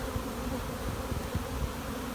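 Honeybees buzz around an open hive colony during a split, a dense, steady hum that holds at an even level throughout with no talking.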